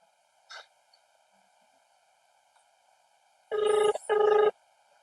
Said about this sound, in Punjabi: ਮੰਮੀ ਨੂੰ ਫੋਨ ਲਾਉਂਦੇ ਆ